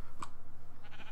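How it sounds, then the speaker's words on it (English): A sheep in the Minecraft video game lets out a short, clear bleat, followed by faint soft noise. "Suicidal sheep."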